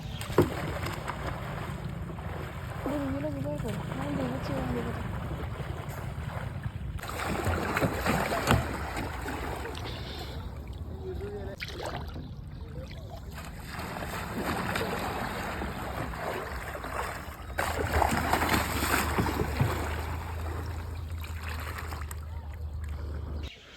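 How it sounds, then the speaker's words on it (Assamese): A kayak moves over open water, with steady broadband water and wind noise running throughout and occasional splashy surges from the paddling. Brief stretches of voice or faint tonal sounds come through in places, though no clear words are spoken. "নাওখন লৈ কায়াকখন লৈ বুৰ যাওঁ বুলি ওলালোঁ আৰু প্ৰেক্টিছ কৰিলোঁ"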